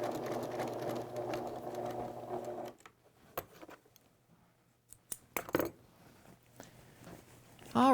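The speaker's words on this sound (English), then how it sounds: "And now you will backstitch this." Sewing machine backstitching a set-in sleeve: a close, steady mechanical whir for under three seconds, then quiet handling clicks and taps, with a brief sound at the very end.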